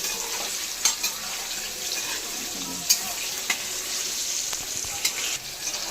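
Hot oil sizzles steadily in a pan, broken by a few sharp scraping clicks of a utensil stirring the food.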